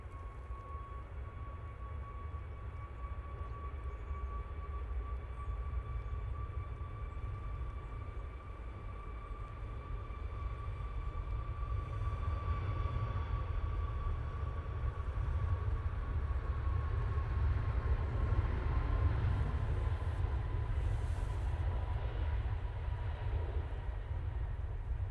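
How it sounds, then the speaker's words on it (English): A Ryanair Boeing 737 passing near Manchester Airport, a steady broad rumble with a high whining tone that swells slightly louder toward the end, heard alone without talk. "And there goes that Ryanair 737"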